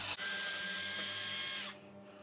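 A power drill whirs steadily and loudly for about a second and a half, driving a screw into the rear bumper of a Slash 4x4 RC truck, then stops abruptly, leaving quiet room tone.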